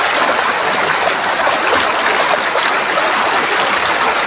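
Steady rushing of flowing river water beneath a hanging bridge in the dry season, close and continuous, a bright broadband wash with no voices.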